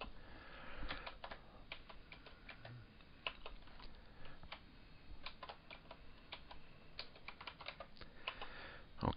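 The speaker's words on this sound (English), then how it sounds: "So we'll type in all the values of the constants" Keystrokes on a computer keyboard as values are entered, a quiet, close, irregular patter of clicks in short bursts with brief pauses, with no talking.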